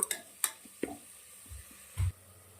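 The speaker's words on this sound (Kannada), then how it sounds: "ಟೊಮೆಟೊ ಚೆನ್ನಾಗಿ ಫ್ರೈ ಆಗಿದೆ." Tomatoes fry in a pan for an okra curry, with faint sizzling, a few stirring clinks, and a low scrape or bump near the end, quiet and close.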